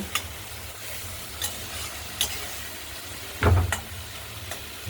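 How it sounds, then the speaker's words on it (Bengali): Tomatoes cooking down in an uncovered kadai (wok) for a fish curry, with a steady low sizzle and occasional scraping stirs, one louder clatter near the end; no talking. "কড়াইয়ের ঢাকনাটা খুলে টমেটোগুলোকে একটু গলা গলা ভাব করে নেব"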